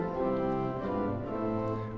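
Pipe organ in a Baltimore Lutheran church plays its 4-foot principal stop: sustained bright organ tones shifting between a few held notes, steady and moderately soft with no talking.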